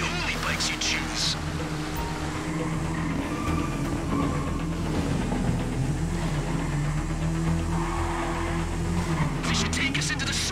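Motorbikes race through a tunnel in a video game, their engines droning and whining steadily at a constant level, with game music and noise blended underneath and occasional sharper bursts.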